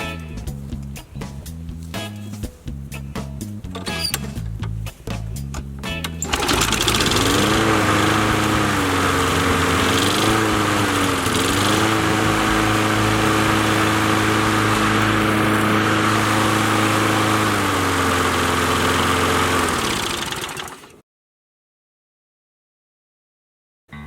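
A riding lawn mower with a freshly repaired carburetor cranks with a few sputtering attempts, then catches and runs steadily at a loud, close, even idle before cutting off abruptly.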